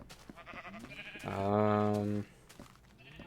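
A single sheep on a Minecraft farm lets out one loud, drawn-out bleat of about a second, close by and alone against faint background noise.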